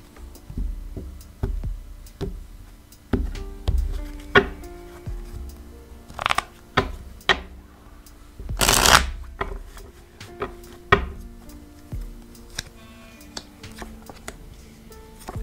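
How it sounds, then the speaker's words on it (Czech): Tarot cards shuffled by hand in a quiet room, a run of soft riffling bursts and taps with brief pauses between them and one louder, longer riffle partway through. "Já se tady budu chvilinku míchat karty"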